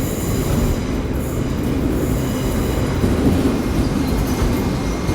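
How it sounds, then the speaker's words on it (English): A London Underground tube train pulls out of Paddington station, a loud, continuous rumble of wheels on rail with faint squeals, close by and unbroken throughout. "We have another tube going out."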